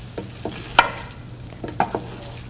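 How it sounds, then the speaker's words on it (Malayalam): A spoon stirs shallow-fried shrimp into a cooked-down tomato masala in a pan, giving a few soft, separate scraping and clattering strokes over a faint sizzle. "ഇതിലോട്ട് ഷാലോ ഫ്രൈ ചെയ്ത ഷ്രിമ്പിട്ട് ശരിക്കും മിക്സ് ചെയ്യുക."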